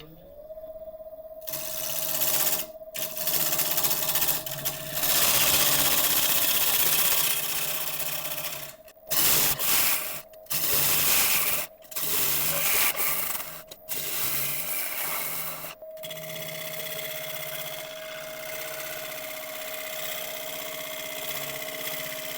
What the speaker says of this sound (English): By the way, we are now turning at about 1000 RPM.